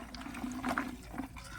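Green chillies being rinsed and rubbed in water, a soft sloshing and trickling with small splashes, close and quiet, with no voices.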